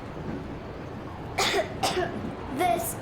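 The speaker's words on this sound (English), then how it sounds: "I have this cough." Three short coughs from a character in the video game Metro Exodus, spaced out over a faint background hiss, each a sharp, breathy burst at close range.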